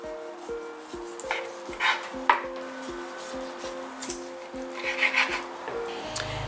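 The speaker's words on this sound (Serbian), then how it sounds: "Prvo što ću raditi je kilogram svinjskih rebara i iseći ću na nekoliko delova." A knife chops a kilogram of pork ribs into pieces, giving a steady run of sharp thuds on a board at close range, with soft scraping between cuts over quiet background music.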